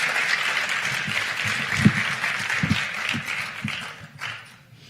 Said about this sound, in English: Another round of applause for Adrienne Blevins.